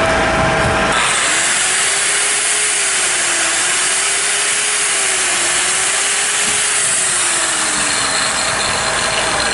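An angle grinder whines steadily while powered by the generator on a 2015 SkyJack SJ86T 86-foot 4x4 boom lift, a loud continuous rasp with a slowly wavering tone.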